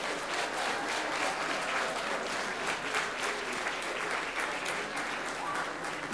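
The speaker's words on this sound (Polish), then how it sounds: "Brawa jeszcze dla wszystkich uczestników." An audience at the verdict ceremony of a small theatre and film forms competition applauds the participants in a dense, sustained wash of clapping that stays even and loud throughout, with a voice faintly beneath it.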